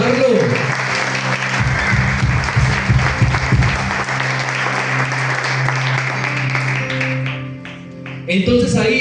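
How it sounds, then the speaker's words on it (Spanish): A church congregation applauds loudly during a worship service, sustained clapping over steady sustained music tones, fading toward the end before the sound picks up again. "A un fuerte aplauso al Señor, porque eso hay que celebrarlo."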